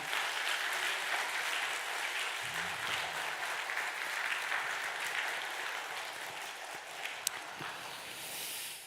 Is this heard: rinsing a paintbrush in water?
no